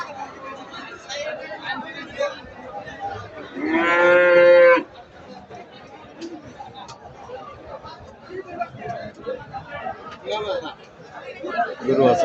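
A cow lets out one loud, drawn-out moo amid a busy crowd of people chattering around it at a cattle market.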